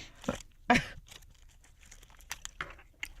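Crinkly tearing and crumpling of a cricket protein bar wrapper being opened near a talk-radio studio microphone, with a couple of sharp rips followed by lighter scattered rustles.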